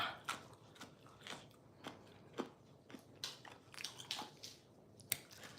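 Spicy Thai green papaya salad (som tam) being chewed close up: soft, irregular crunchy bites and wet squishes, faint and sporadic, with no talk.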